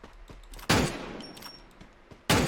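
Two loud, close bursts of gunfire sound in the video game Free Fire, each a sharp crack with a decaying tail, separated by quieter game ambience.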